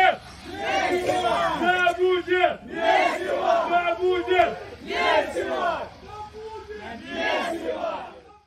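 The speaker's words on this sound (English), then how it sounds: "I always hear them chanting it in Russian death matches" A crowd at a Russian deathmatch chants "mesivo" in loud, rhythmic bursts, several massed-voice chants repeating with short gaps between them.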